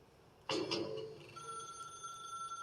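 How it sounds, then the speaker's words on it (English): A telephone rings in the video game The Stanley Parable Ultra Deluxe, with one sharp bell burst followed by a sustained electronic tone that carries on alone at moderate loudness. "Pick up the phone and it will take us back home"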